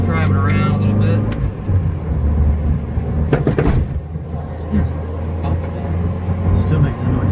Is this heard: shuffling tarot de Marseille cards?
no